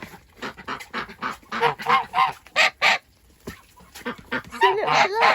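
A goose honks in a series of loud, close, harsh calls, with a few quicker bursts and then a busier run of honking toward the end.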